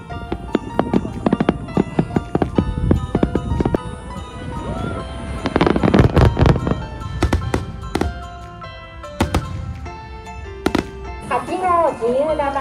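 Bursts of fireworks popping and banging at irregular intervals, some loud and close, with people talking and a voice in the crowd.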